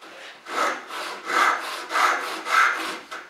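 Japanese hand saw cutting through wood: five or six rhythmic rasping strokes, each about half a second long, close and fairly loud with brief pauses between, no voices.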